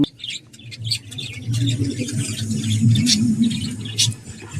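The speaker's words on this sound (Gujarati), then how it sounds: "ક્યુટ પોપટ છે" Bird chirps and tweets, likely a parrot, flit above a steady low rumble of traffic in the background.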